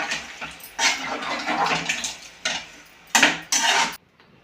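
Water poured into a pot of cooking curry, splashing and sloshing in several bursts with metallic pot clatter, near and fairly loud, ending abruptly.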